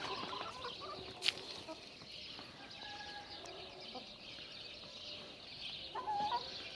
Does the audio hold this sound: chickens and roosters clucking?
yes